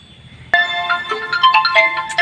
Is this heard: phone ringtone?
yes